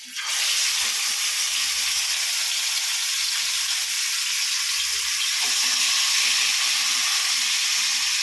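Jilebi (tilapia) fish frying in oil, a loud, continuous bright sizzle and crackle heard up close with a faint low rumble underneath.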